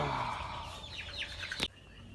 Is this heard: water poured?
no